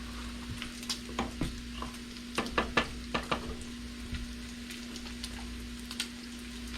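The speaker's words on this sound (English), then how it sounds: "Stirring in that butter on this." Butter stirred through a hot pan of soup ingredients, a steady sizzle under intermittent scraping stir strokes, close and moderately loud, with a constant low electrical hum beneath.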